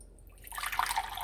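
Hot water pours into a pasta pot holding tomato paste, starting quietly and then swelling into a close, bubbling splash that lasts about a second.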